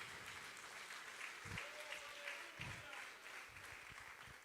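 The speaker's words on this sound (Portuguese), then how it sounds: "Quantos crê nessa palavra, aplauda o nome do Senhor Jesus Cristo que vive." A church congregation claps steadily throughout a worship service, a continuous faint patter of many hands at moderate distance with a few lower thumps, no talking over it.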